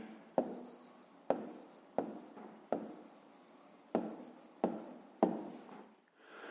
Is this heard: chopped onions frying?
no